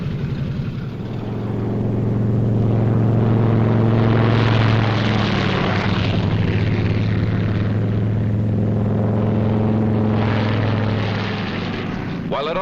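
World War II P-38 fighters take off in pairs, element leader and wingman: a loud, steady multi-engine propeller drone with a low harmonic hum that swells and recedes over twelve seconds, with a voice heard faintly underneath.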